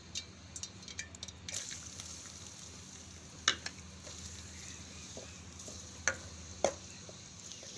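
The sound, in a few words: onions frying in hot oil for cholay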